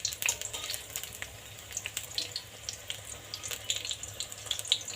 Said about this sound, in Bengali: এইভাবে কিন্তু লাল করে ভাজে নিন পটলটা।